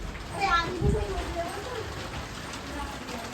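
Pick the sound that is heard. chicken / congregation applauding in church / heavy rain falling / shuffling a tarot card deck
heavy rain falling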